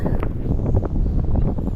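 Gusty wind buffets the microphone outdoors during a walk, producing a continuous low rumble with irregular bursts of rustling noise.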